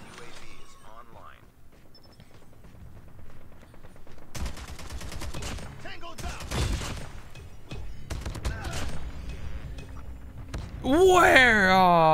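AK-47 gunfire in a video game: a quiet start, then rapid automatic bursts and single shots, with a person talking over parts of it and a rising electronic effect at the end.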